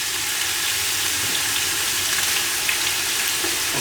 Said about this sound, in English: I'm just going to pan sear the lamb over here